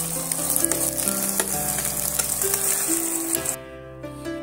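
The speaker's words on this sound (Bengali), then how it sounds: "এইভাবে ডিমগুলো আমি হালকা করে একটু ভেজে নিচ্ছি।" Eggs frying lightly in a pan give a steady close sizzle with faint crackles, fading to quieter bubbling near the end; no one speaks.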